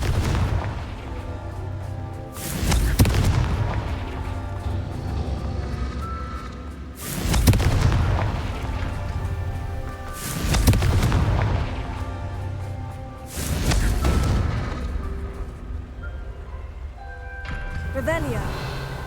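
Blasting-spell explosions from the video game Hogwarts Legacy, heavy booms going off about every five seconds, four or five in a row, over a constant rumbling game soundtrack.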